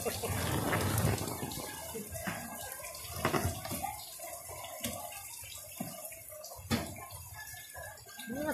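Floodwater rushes under a bridge in a swollen river during Typhoon Ulysses, a steady, loud close roar of churning water with occasional splashes throughout.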